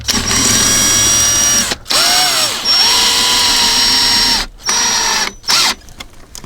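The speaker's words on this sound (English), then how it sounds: "I think I'm going to go ahead and just bolt this thing, or screw this thing down to the bottom." A power drill drives screws into the base of a homemade Halloween electric chair prop, whining loudly in several long bursts separated by short pauses, with the motor pitch rising and dipping as it bites.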